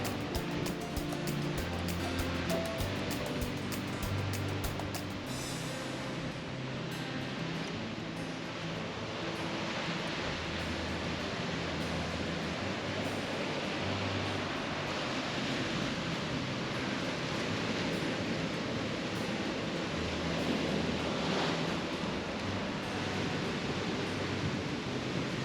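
Waves wash steadily on a secluded Algarve beach between rocky cliffs, a soft continuous surf roar heard from some distance with no voices.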